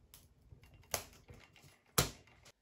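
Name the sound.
cutting out laser-cut parts for an RC boat hull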